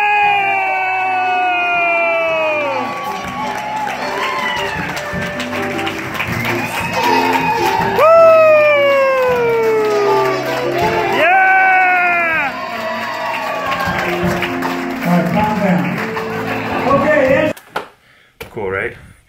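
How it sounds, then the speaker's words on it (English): A wedding crowd cheers, whoops and applauds for the bride and groom, loud and lively with rising shouts and yells, and voices mixed into the din throughout before it breaks off abruptly. "And a big round of applause,"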